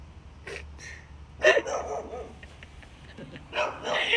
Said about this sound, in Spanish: Está el perro allá ladrando.